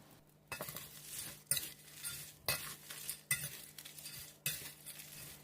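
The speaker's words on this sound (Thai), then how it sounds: "คลุกเคล้าให้เข้ากันดีแล้ว" Dry chili paste being stirred and mixed with crispy pork cracklings, fried dried bird's eye chilies and fried kaffir lime leaves, with a utensil scraping and clinking against the pan in repeated strokes about once a second, close and without talk.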